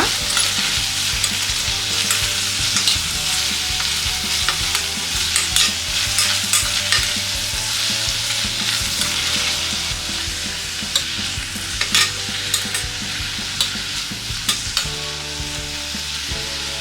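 Spices dry-roasting in a pan for chicken sambar crackle and hiss steadily while a utensil keeps scraping and turning them. A low, steady tonal background hums underneath.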